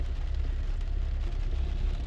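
A 2004 Jeep Grand Cherokee drives in the rain, giving a constant low road rumble washed over by the hiss of rain and spray, steady and unbroken without any speech.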